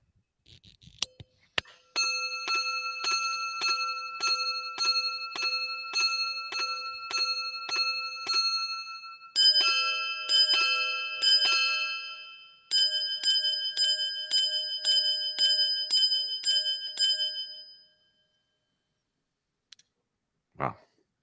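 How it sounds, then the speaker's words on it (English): Patek Philippe minute repeater luxury wristwatch chiming at a Christie's Hong Kong auction preview: a long run of bright, evenly spaced ringing strikes in two tones, then a few isolated clicks near the end. "I think this time we can actually listen to the chime."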